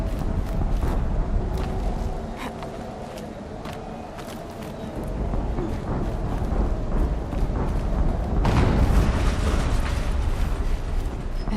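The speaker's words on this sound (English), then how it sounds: "An explosion." Rumbling, crackling explosions and debris roar dominate a noisy action sequence in the video game Horizon Zero Dawn, with a louder burst near the end, no one speaking.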